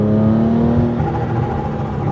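Supercharged Theon Porsche 911 accelerating with its exhaust closed: a loud, steady engine drone with a rising harmonic whine, heard from inside the car and continuous throughout.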